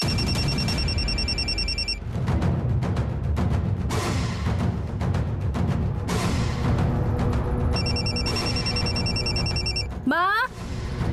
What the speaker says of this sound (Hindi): माँ, तुम्हारा फोन बज रहा है।